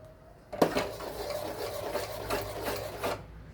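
Thick black rice halwa made from karuppu kavuni rice is stirred in a pan, giving a continuous close scraping and rubbing of spoon against metal with a few louder strokes and no talking.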